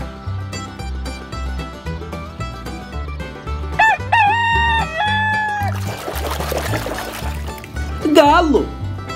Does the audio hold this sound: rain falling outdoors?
no